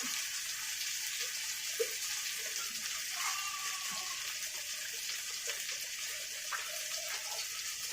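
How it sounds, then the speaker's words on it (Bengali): Water poured into a pot of eggplant and potato curry that is already simmering in oil and spices. A steady, hissing pour and sizzle runs the whole way through at an even level. No speech. "এবার জল দিয়ে দেবো"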